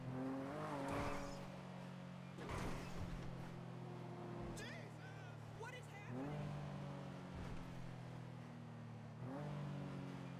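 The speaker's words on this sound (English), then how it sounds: "The car coasts for a while." A car coasts without acceleration in GTA V NoPixel roleplay, its engine drone sliding up and down through repeated gear-like pitch sweeps under a low, steady hum.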